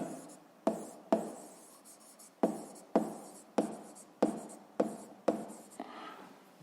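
A pen writes on paper close up in a series of about eight quick scratchy strokes, each starting sharply and fading away, evenly spaced, with no voice over them.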